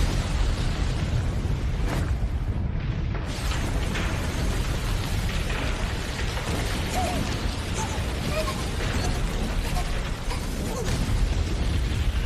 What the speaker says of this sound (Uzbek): Portla!